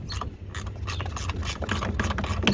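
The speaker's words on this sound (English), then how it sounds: "For the front bolt, I'm just using a 10mm socket and a 1/4 inch ratchet." Quick ratcheting clicks from a 1/4 inch ratchet driving a 10mm socket on a hood light mount bolt, rapid repeated bursts up close with no talking.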